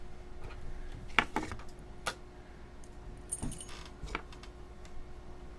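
Keys jangle and clink in sharp, irregular bursts as they are dug out of a container, with several loud metallic rattles and quieter shuffling between them, close up and without talk.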